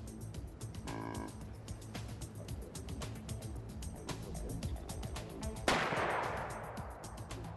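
A single sharp rifle shot cracks outdoors during a hunt, followed by a short decaying echo, set against faint rural background noise.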